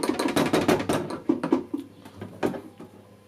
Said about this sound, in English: that's just me dumping that wash water out